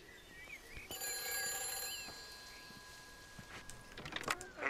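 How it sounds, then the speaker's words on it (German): An old telephone rings inside the deserted village of the video game Everybody's Gone to the Rapture, its bell tones repeating at moderate volume over quiet ambience with faint game sounds around. "Oh, das Telefon geht."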